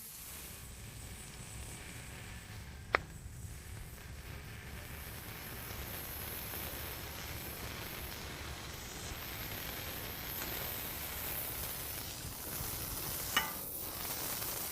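Seasoned beef patties, salt, pepper and garlic, sizzle on a griddle in a steady, moderately quiet hiss that fills the whole stretch, broken by two faint sharp clicks.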